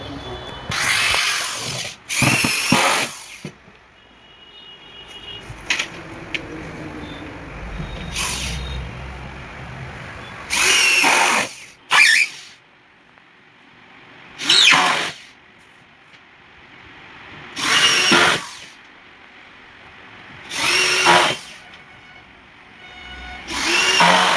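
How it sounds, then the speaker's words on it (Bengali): A power drill drives screws into plywood panels while a wooden hydraulic bed is assembled; short, loud whirring bursts come every few seconds, with quieter handling noise between them. "সব স্ক্রু টাইট দেওয়ার পর"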